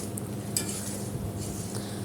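Stirring black mushroom and amra (hog plum) chutney in a pan, a soft continuous scraping and gentle sizzle with a few light utensil clinks, close and steady throughout.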